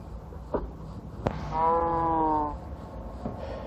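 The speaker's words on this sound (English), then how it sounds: "Bunch of cows." Cow moo in the Minecraft video game, a single drawn-out lowing call of about one second, moderately clear over quiet game ambience with a few soft clicks and footsteps around it.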